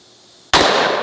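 One gunshot from an extremely powerful firearm during a recoil test cracks out suddenly after a quiet lead-in, a single very loud, close blast whose noisy tail rings on for half a second.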